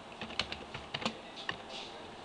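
Short run of keystrokes on a computer keyboard while a username is entered on a website user form, a few close, crisp clicks spaced irregularly with pauses between, with no voices.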